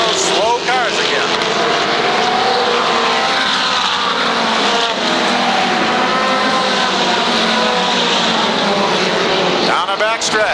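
NEMA midget race cars roar around the Waterford Speedbowl oval in 1991, a loud continuous engine drone with pass-by pitch sweeps from several cars, under steady race commentary.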